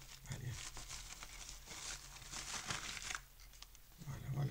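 Small scissors cut into the plastic packaging of a bicycle horn, producing close crinkling, rustling and tearing sounds in irregular bursts, with a low voice briefly audible at the start and end.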